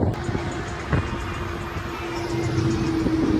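Road traffic jam in Karad city, with a steady wash of idling and slowly moving car engines, a low drone and faint honking, heard fairly close.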